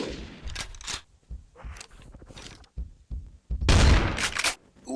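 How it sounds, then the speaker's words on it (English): A SPAS 12 shotgun fires in the video game Carnivores Triplex as several sharp, loud blasts at irregular intervals, with the final shot the heaviest and each followed by a brief ringing decay. "Quick, powerful, decisive. Yeah, that's the SPAS 12."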